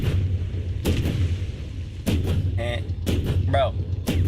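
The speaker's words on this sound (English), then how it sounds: "I'm shooting a 20 mil into a fucking tire and it's just not getting flat." Sharp 20 mm cannon shots from a War Thunder tank fired into a vehicle tire, about five loud impacts spaced irregularly over a steady low engine rumble, with a short whining ricochet-like tone between them.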